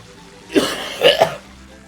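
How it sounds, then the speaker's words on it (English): A single short cough, two or three quick throaty bursts, heard up close and clear over quiet background. "There's that cough."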